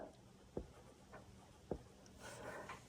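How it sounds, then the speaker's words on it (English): A pen scratches a label onto tape stuck on a jar. The scratching is faint and close, with soft strokes and a couple of light taps against the glass. "I like to just take some tape and write on it"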